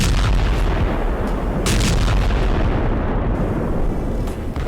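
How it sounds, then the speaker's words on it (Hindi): Sudden loud explosions in Doha, Qatar, during a midday attack: a dense, continuous rumble of heavy blasts with repeated sharp bursts, close and overwhelming, with no speech. "अचानक जोरदार धमाके"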